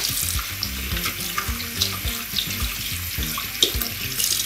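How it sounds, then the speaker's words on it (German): Hands being washed under a running tap at a sink, with a steady near splash of water broken by small shifting splatters and clinks as the hands move in the stream. "Kann man sich die Hände waschen."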